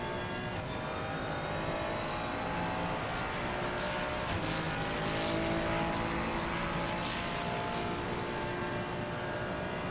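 In a racing video game, a McLaren 720S EVO race car engine drones steadily for the whole stretch. The tone is a constant high-revving roar with no breaks.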